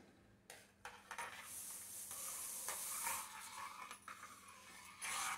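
Semolina being stirred into a pan with grated coconut and salt while cooking sweet dumplings, a soft scraping and sizzling texture with a few sharper clinks of a spoon against the pan, moderately loud and close.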